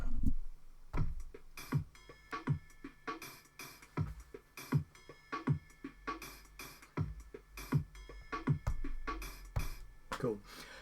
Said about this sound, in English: so I'm just putting a drum beat into this